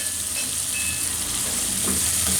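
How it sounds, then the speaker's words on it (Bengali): Chili powder and spices frying in hot oil in a pan for an aloo dim curry, a steady, close hiss and crackle of sizzling with no voices. "ভালো মতো ভাজা"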